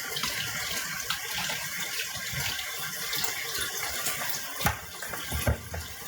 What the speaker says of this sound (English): I'll rinse that because I'm going to give it to the doggies